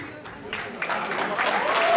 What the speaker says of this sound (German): Ein großen Applaus für unsere Jungs.